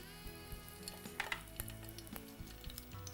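Slit green chilies dropped into hot oil, giving a close, quiet, steady sizzle with light pan clinks and stirring taps, no voices.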